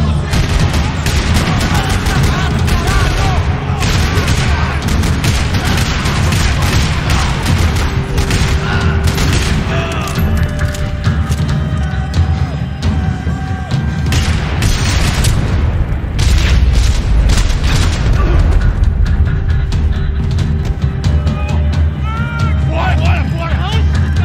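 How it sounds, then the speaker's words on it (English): Dense, continuous gunfire from the Max Payne 3 video game rattles across a parking lot, with repeated booming explosions and dense volleys throughout, loud and sustained, with voices shouting over the battle. "Another parking lot rattling with gunfire."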